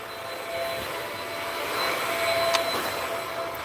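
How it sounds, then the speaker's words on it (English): A vacuum cleaner runs steadily in the background, a constant whirring drone with a faint high whine, moderately distant and unbroken for a few seconds, with no talking. "vacuum."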